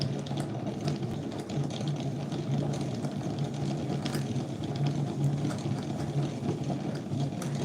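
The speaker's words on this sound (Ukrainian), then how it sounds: "Цей моточок швидше перемотається, бо тут нитка товща." A yarn winder rewinds a skein of thick thread, giving a steady mechanical whirring hum with a fast, faintly ticking rhythm, close and even throughout, no talk.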